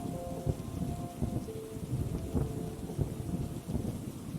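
Steady rain falls in a dense, even patter with soft low rumbles of distant thunder underneath, a continuous calm wash of sound with no voices.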